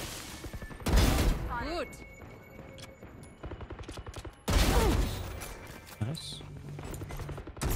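Rapid gunfire from the video game Valorant bursts out in loud, dense volleys with single shots in between, while players talk briefly over the shooting.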